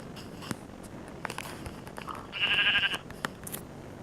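A single sheep bleat in Minecraft rises briefly mid-clip among scattered clicks and soft thuds, the bleat clear and fairly close.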